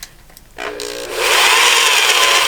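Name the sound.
worn-out power drill running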